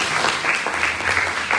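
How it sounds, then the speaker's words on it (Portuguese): A church congregation claps in a dense, steady burst of applause that fills the short moment at full volume. "Você pode aplaudir ao Senhor?"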